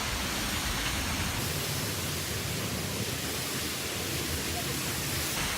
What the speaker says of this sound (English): the goal is to walk all of this and get behind the waterfall